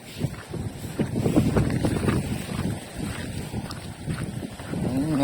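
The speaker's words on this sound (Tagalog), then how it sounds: "Malakas yung hangin dito." Strong wind gusting across a seaside cliff with wind noise rumbling into the microphone, steady and loud throughout with a few brief swells, alone without talk.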